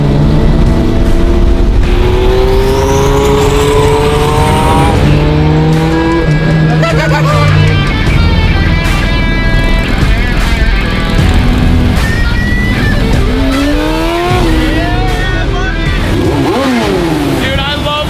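A mini truck fitted with a swapped Harley-Davidson engine rolls along on a drive toward Sturgis, its motor loud and close as it revs and shifts throughout, with people talking over it.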